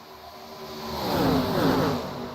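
ARCA stock cars in a racing video game round a corner at Daytona, their engines swelling into a loud, close roar that peaks midway and then eases slightly.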